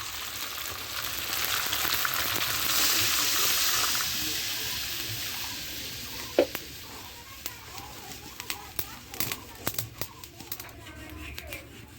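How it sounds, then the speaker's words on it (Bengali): Water poured into a pan of sizzling, spiced pangas fish curry in tomato gravy, a steady hissing rush that gradually settles into a softer simmer with scattered pops and clicks, while a person talks. "এবার আমি পরিমাণ মতো ঝোলের জল দেবো"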